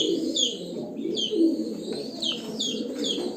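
Hungarian high-flying pigeons coo repeatedly in soft, low, rolling calls, with light chirps overhead, close and steady throughout.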